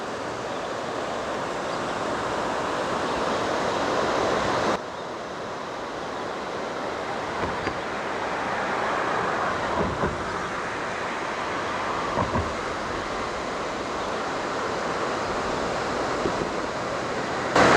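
Water rushes steadily below a bridge over Quechee Gorge, a broad even roar of the river with wind buffeting the microphone and no voices.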